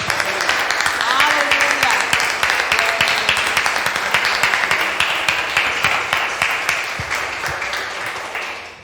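A church congregation applauds with steady, dense clapping that holds throughout and slowly fades, while a voice speaks over the applause.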